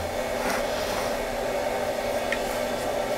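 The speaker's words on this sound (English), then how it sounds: "we got a CNC spindle, and it's a 1mm cutter" A CNC spindle fitted with a 1mm cutter runs at a steady, quiet whir while cutting a rubber magnet for a tweeter, a constant airy hum with no breaks.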